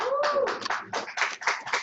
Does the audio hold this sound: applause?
yes